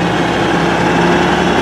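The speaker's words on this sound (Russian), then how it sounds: "Вот такая у нас техника Т-150К." T-150K tractor engine running steadily, a loud, continuous, close diesel drone with an even rumble and no pauses.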